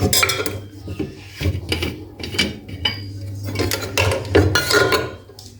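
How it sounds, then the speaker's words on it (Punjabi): A thermos bottle being opened, heard as a run of close metallic clinks, twists and scrapes with uneven rhythm. "ਆਪਾਂ ਇਹਨੂੰ ਬੋਤਲ ਨੂੰ ਖੋਲ ਲਵਾਂਗੇ"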